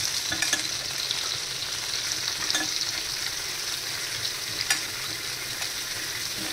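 Cauliflower, beetroot and green peas fry together in a pan, giving a continuous close sizzle broken by a few sharp scraping stirs, with no talk.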